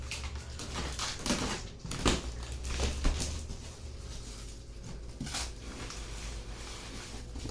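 Packaging from a freshly arrived parcel is handled during unboxing, with close crinkling, rustling and crunching and a few sharper taps over a steady low background hum.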